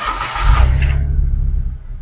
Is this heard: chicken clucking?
no